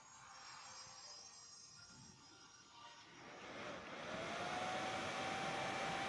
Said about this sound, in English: Now this smaller fan up here is working as well